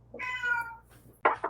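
A cat gives one drawn-out meow, then a quick pair of short, sharper meows, close and fairly clear in a quiet room.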